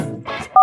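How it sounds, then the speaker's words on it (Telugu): Mobile phone dialing tones sound as a call is placed, a short burst of tone ending in a loud, steady dual-pitch beep near the microphone. "ఓ పని చేద్దాం, బబ్బులు గడికి ఫోన్ చేద్దాం."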